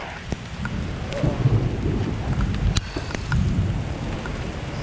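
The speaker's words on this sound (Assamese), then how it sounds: "বৰষুণ দিলে বহুত বৰষুণ" Heavy rain pours steadily and loud throughout an outdoor shoot day, with a sharp crack near the middle that may be thunder.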